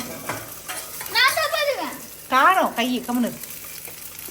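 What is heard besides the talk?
shallots and green chillies sautéing in oil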